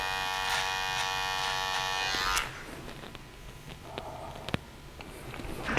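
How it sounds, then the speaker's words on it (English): An electric trimmer cuts beard hair over a comb with a close, steady buzz for about two seconds, then switches off. Soft handling taps and rustles follow in a quiet room. "Bit of trimmer over comb as well, just to take a little bit of weight out"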